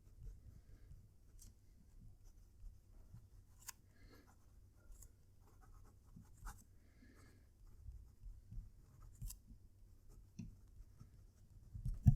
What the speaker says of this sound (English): I'm going to move the mic close to the paper so you can hear it write.